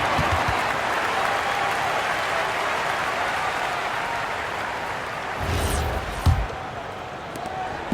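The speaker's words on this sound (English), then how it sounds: "please give a big round of applause" Applause and crowd noise fill a large arena at a WNBA basketball game, Las Vegas Aces vs Atlanta Dream, a broad steady wash of clapping, with a couple of sharp thumps near the end.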